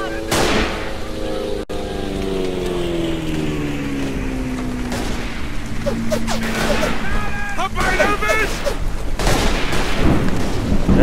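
Gunfire in the World War I shooter Verdun on the Flanders map, a dense roar of battle with booms and bursts of shots running the whole time beneath continuous talk.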